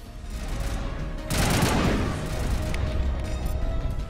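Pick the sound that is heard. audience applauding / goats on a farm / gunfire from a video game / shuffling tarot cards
gunfire from a video game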